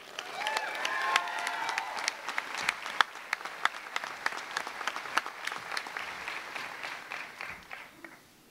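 A crowd applauds warmly at the Washington and Lee University School of Law 2012 commencement ceremony, steady dense clapping filling the hall for several seconds before tapering slightly at the end.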